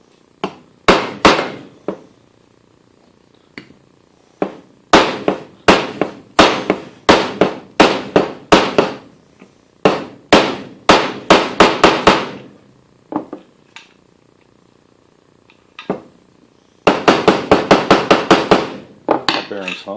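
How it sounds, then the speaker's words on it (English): A bearing is driven into place with a hammer on an inverted spark plug socket and heavy steel washers, giving sharp metallic strikes in quick bursts of rapid blows separated by short pauses. "that'll let me drive this bearing into place while only driving on the center race"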